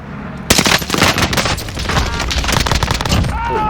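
Rapid, loud bursts of M1 Garand rifle fire in the Call of Duty video game, with close shots overlapping into a sustained volley across most of the stretch.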